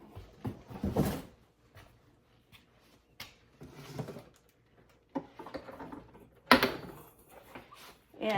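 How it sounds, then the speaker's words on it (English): Suction cups on the base of a Nutrimill Artiste stand mixer clack and pop against a kitchen counter, several sharp knocks and thuds with quiet handling noise between them. "And as you could hear, it's got suction cups on the bottom."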